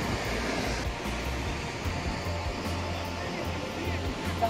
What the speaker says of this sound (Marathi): प्रचंड असा मोठा धबधबा आहे